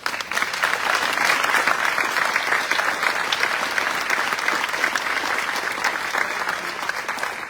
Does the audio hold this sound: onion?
no